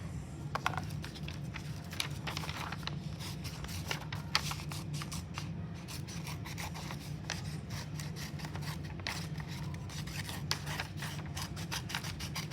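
A name plate being cut out, giving a quiet, continuous stream of soft snipping and rubbing sounds close by, with no speech.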